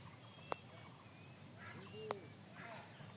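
Ducklings in a village beside a flooded, half-harvested rice paddy in Rangpur give two brief, faint peeps, spaced apart over a steady quiet outdoor hiss.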